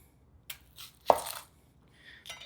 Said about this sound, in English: Again, chop into chunks.